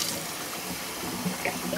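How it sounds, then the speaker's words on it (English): Tap water from a kitchen sink runs steadily into a measuring cup, a continuous close splashing rush with no talk over it. "And now reach for the sink. And you're gonna fill it to the 1 cup line."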